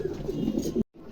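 A pair of pigeons coo in a loft with repeated low, throaty calls close by, for under a second before the sound cuts out abruptly.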